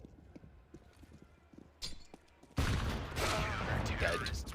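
Pistol fire from a Glock in a Counter-Strike match on the Train map, heard as a burst of sharp shots followed by dense loud gunfire and game noise, with faint commentary beneath.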